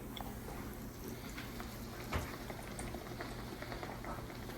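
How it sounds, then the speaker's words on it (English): Quiet, steady bubbling and crackling of fry bread dough deep frying in hot oil, with scattered small pops and no voices. "When your fry bread's frying"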